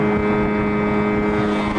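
A small homemade boat's engine holds a steady 5,200 RPM with a constant droning hum, loud and close, with no pauses and no voices.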